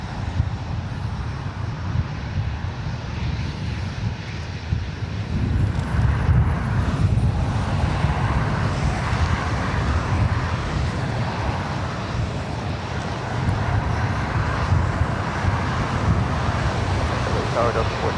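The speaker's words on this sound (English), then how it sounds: "All right, we have an A380 up next. Speedbird, flight 269 coming in from London Heathrow." A British Airways Airbus A380 arriving from London Heathrow produces a deep, sustained jet rumble that grows louder around the middle and stays steady, mixed with wind and faint background traffic noise.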